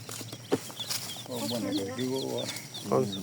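Khashi and tiger chickens cluck and chirp at a poultry market in Gaziantep-style stalls, short calls repeating near and loud, with people talking over them.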